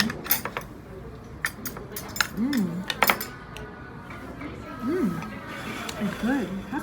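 A spoon clinks against a dish while scooping into a chocolate parfait, giving scattered light metallic taps and scrapes over several seconds, with people talking nearby.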